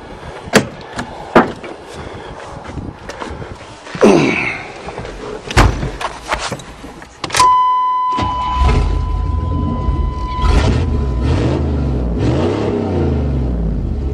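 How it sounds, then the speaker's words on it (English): After a few thuds and a door slam, a 1988 Chevrolet truck engine with a new exhaust starts and settles into a loud, rumbling idle with throaty exhaust. "Let's fire this bitch up and see what she sounds like now"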